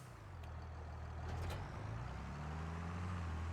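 A truck and trailer reversing in Farming Simulator 25, a steady low engine rumble holding throughout with a brief hiss near the middle, continuous and fairly close.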